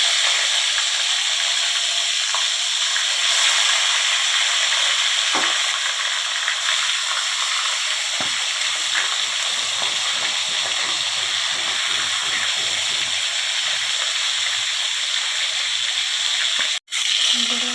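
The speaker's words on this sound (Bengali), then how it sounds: "মাথাগুলো ভেজে নেবো" Katla fish heads frying in oil in a wok, a dense, steady, loud sizzle and crackle heard close up, with faint stirring underneath and a brief cut near the end.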